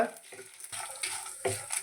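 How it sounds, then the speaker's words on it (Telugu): Tamarind and white sesame seeds dry-roasting in a pan, a soft, faint sizzle with light stirring scrapes in short bursts. "తెల్ల నువ్వులు కూడా వేసేసి చక్కగా ఇవన్నీ వేయించేసుకొని"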